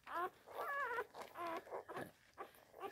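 Small newborn puppies, a litter of six with brown-and-white and black-and-white pups, give several high, wavering whimpers and whines in short bursts, close by, with a person speaking softly in between.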